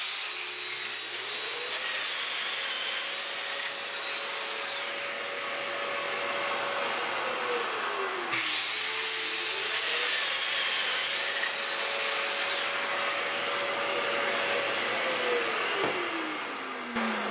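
A Festool Domino joiner cuts mortises in drawer boards in a woodworking shop, its loud motor whining steadily and rising and falling in pitch through two plunge cycles, with a sharp click between them.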